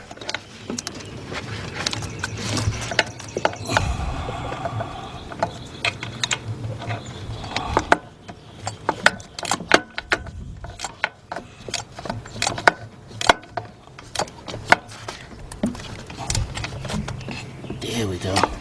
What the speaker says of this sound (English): And we'll get there and tighten that one.